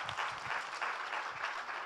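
The audience at a technology innovation debate gives a speaker a short, faint round of applause, with the claps coming in quick overlapping bursts that carry evenly through the moment.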